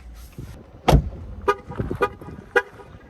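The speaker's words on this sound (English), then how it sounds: "it let me know that the car is still running by honking the horn 3 times" A 2021 Jeep Wrangler 4xe Unlimited Rubicon's horn gives three short, sharp honks spaced about half a second apart, signaling the car is still running, close by, over faint mechanical clicks and a thump.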